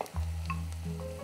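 Two large diced onions frying in a pan for Kazakh barley soup, a close, steady sizzle with a low hum beneath it, under no talking.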